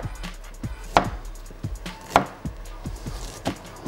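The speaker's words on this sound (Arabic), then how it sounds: "عندي الاول جنزبيل، عندي حته صحيحه كده هاخدها شرايح" A whole piece of ginger is sliced thickly on a cutting board, with a brisk series of close knife thuds landing roughly every third of a second, some louder than others.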